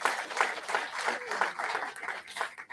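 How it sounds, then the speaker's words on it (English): A conference audience gives a round of applause, a steady crowd of clapping hands that rises and falls slightly, with some voices mixed in. "Give yourselves a big round of applause."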